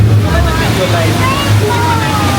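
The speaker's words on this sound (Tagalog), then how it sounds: "Look, it's the Huka Falls." Huka Falls, a powerful waterfall on a New Zealand river, rushes as a steady, loud roar of churning water, close and continuous throughout, with faint voices in the background.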